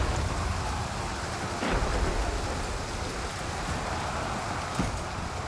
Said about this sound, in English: It's now raining